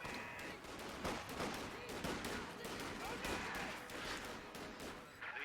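Company of Heroes 2 match: an artillery barrage with rattling gunfire forms a dense, continuous bed of explosions and shots, while a commentator talks over it.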